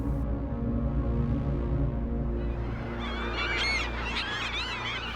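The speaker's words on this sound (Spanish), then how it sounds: "la pequeña laguna que aquí se forma atrae una gran variedad de aves" Waterbirds at a small lagoon in the Atacama Desert honk and call repeatedly over a steady low hum, their calls growing busier and more layered toward the end.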